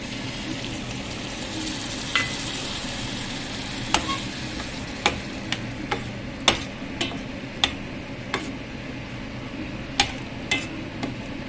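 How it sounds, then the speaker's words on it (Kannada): Milk poured into a golden fried-onion tempering for a puffed-rice dish: a low bubbling simmer with a soft hiss, punctuated by regular sharp ladle taps and scrapes against the pan as it is stirred, close and moderate. "ಇವಾಗ ಅರ್ಧ ಕಪ್ ಹಾಲನ್ನು ಈ ಒಗ್ಗರಣೆಯಲ್ಲಿ ಹಾಕೋಣ."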